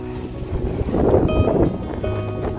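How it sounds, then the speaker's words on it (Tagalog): Strong wind gusts buffet the microphone across an open farm field planted with corn, eggplant and rice, a steady low roar swelling in the middle and easing slightly toward the end. "Ang lakas ng hangin."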